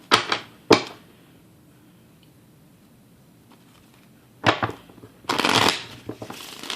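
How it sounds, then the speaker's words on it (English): A Witch's Tarot deck being shuffled by hand, two quick riffles at the start, a quiet pause, then two more louder bursts of card flutter, close up with no talking. "I'm using the Witch's Tarot deck, and we're going to give it a couple of shuffles."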